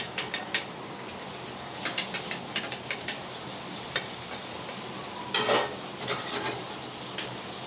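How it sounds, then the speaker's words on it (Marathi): Dishes being scrubbed and washed by hand under running water at home, with scattered clinks and clatters of utensils over a steady wash of water, moderately close and intermittent. "पाणी आहे तर भांडी घासून घेते."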